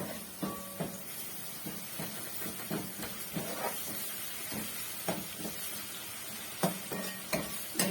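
Garlic and onions sizzle and fry in a pan during okra cooking, a steady broadband hiss punctuated by stirring scrapes and clinks of a utensil against the pan, close and continuous with no talk.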